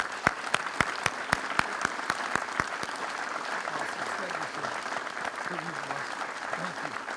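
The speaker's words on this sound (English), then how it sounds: "Please join me in a round of applause." An audience at a 9/11 commemoration at Fort Bragg, North Carolina applauds as speaker Dave Roever is welcomed, a few sharp claps at first, then a sustained crowd of clapping with voices speaking underneath.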